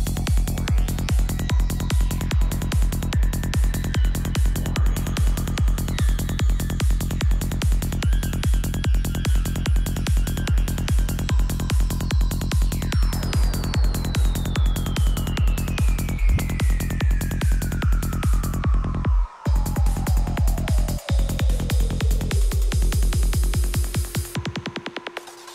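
A psytrance atmosphere demo: a dense electronic track with a steady pounding kick, layered synth pads and a long descending synth sweep. Near the end the beat briefly cuts out, then the sweep settles into a sustained tone.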